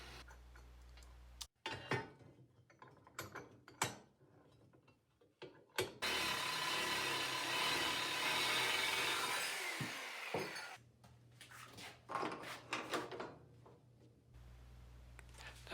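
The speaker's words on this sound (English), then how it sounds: "Cutting the angle iron to 3-inch lengths here" A steady, loud grinding-saw whine cutting steel angle iron into 3-inch lengths runs for several seconds in the middle, framed by intermittent clanks and handling noises before and after.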